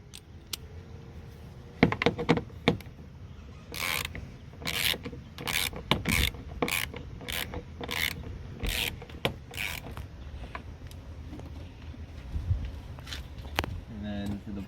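Rapid, evenly spaced ratchet clicks tightening the driver mirror bolt on a 2000 Ford Excursion, close by, in a steady run after a few scattered handling knocks.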